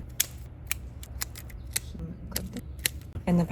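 Pepper plants being cut back in a garden, heard as several sharp, separate snips spaced irregularly, close and fairly quiet over a low background hum, with a brief louder rustle at the end.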